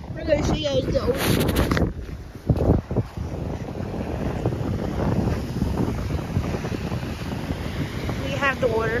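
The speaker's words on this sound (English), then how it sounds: "We're gonna show you guys the ocean." Wind buffets the microphone on a beach by the ocean as a thunderstorm approaches, with a steady roar of surf underneath and brief voices at the start and end.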